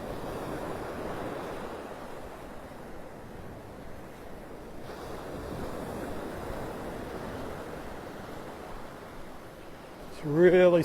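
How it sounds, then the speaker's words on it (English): Heavy rain pours down on a beach on a stormy morning, a steady broad hiss blended with surf and wind, with a brief voice rising at the very end. "Oh, it's really starting to pour."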